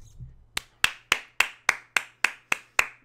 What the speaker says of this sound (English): Strong claps.